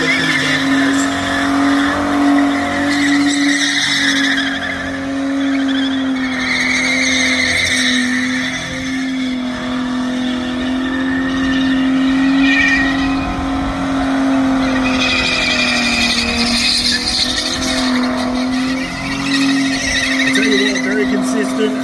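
A race car engine holds steady, loud revs at a motorfest race meeting at Wellcamp, droning continuously with occasional tire squeal while a commentator talks over it throughout.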